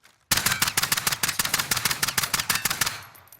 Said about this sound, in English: Full auto looks like this, and single fire looks like this.